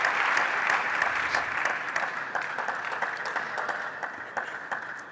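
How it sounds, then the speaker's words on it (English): Crowd applause at a world team table tennis championship match between Portugal and Sweden, dense steady clapping from a large audience throughout, with a little commentary mixed in. "The crowd are loving it."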